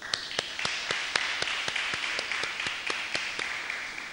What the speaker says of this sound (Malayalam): നമുക്ക് എല്ലാവർക്കും കൈയടിച്ച് അദ്ദേഹത്തെ ഒന്ന് സ്വാഗതം ചെയ്യാം.